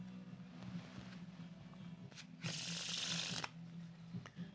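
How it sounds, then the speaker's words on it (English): A deck of playing cards is shuffled half and half close by, a soft rustle of riffling cards over a low hum, with one louder burst of rapid flutter in the middle. "as you can see, I'm shuffling the deck here"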